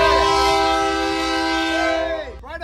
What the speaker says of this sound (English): Got the train horn, and we're in the building.